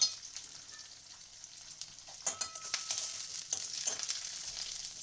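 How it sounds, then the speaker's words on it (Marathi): Curry leaves sauté in hot oil for a spicy Khandeshi shev bhaji, giving a steady sizzle with a few brighter crackling bursts as they are stirred, heard close and alone. "कढीपत्ता कढीपत्त्याने छान फ्लेवर येतो परतून घ्यायचा आहे चांगला"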